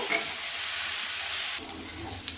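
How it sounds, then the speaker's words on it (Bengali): Vegetables frying in a pan with coriander and cumin powder while being stirred, a steady close sizzle with brief scraping, the texture shifting slightly partway through. "সমস্ত উপকরণ দিয়ে আমি সবজিগুলোকে ভালোভাবে নাড়িয়ে চাড়িয়ে আমি ভেজে নেব"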